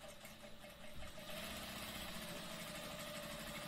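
Sewing machine stitching a hair weft, a steady motor hum with a rapid needle chatter that starts softly and then speeds up after about a second, running continuously and close.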